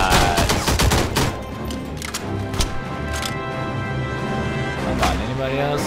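Repeated gunfire from a gun in the WWII shooter game Enemy Front, with dense bursts of shots and explosions over game music, loud and continuous through the stretch with brief sharp peaks.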